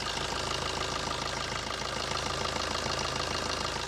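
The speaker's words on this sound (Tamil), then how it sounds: "ஒரு டீசல் இன்ஜின் நாய்ஸ் எவ்வளோ டீசெண்டாக இருக்குன்னு கேளுங்க" A diesel car engine idles steadily with a constant, even clatter and low rumble, close and unchanging, with no voices.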